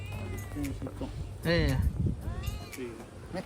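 Cats meow repeatedly at close range on Pulau Sayak, several drawn-out meows and a louder yowl mixed with people's voices.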